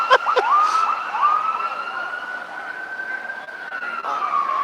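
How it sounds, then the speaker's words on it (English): An ambulance siren wails loudly and continuously as the vehicle drives past close by, with a steady sweeping tone and a few sharper bursts early on. "there's an ambulance driving by"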